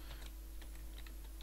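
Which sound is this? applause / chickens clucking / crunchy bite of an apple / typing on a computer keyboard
typing on a computer keyboard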